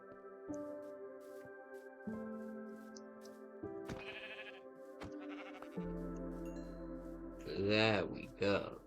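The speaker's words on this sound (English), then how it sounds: "I hear a sheep." Steady musical tones play throughout, and near the end a sheep bleats loudly twice in quick succession, in the video game Minecraft.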